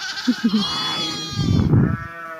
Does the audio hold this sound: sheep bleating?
yes